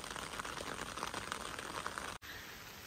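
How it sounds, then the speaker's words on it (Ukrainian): Steady rain falls on a riverbank during feeder fishing, a dense pattering wash of droplets close by that continues throughout and briefly cuts out near the end. "Дощ, як ви бачите, йде."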